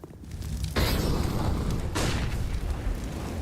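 Grenade blasts in a Counter-Strike-style eSports match between Astralis and ENCE, two heavy booming bursts about a second apart, loud and close, each followed by a rumbling tail.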